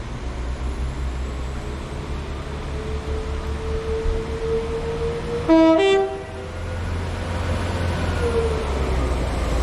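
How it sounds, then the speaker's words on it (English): A train, unit 195129 departing Preston station for Blackpool North, rumbles steadily nearby, then sounds a short two-tone horn blast midway before its engine noise continues and builds as it pulls away. "This was my train that brought me in, 195129 to Blackpool North. And off she goes."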